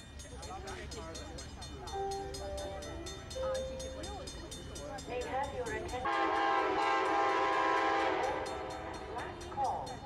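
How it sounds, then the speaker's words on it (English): A VIA Rail passenger train rumbles in with a drawn-out horn blast over steady rail noise, while a voice speaks over it. "and oh, here comes the train."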